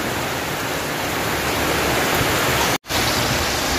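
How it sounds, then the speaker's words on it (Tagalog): Heavy typhoon rain during Typhoon Ulysses in Bicol pours down in a dense, loud, unbroken hiss that cuts out for an instant near the end before resuming. "Oh, lakas na naman ng ulan."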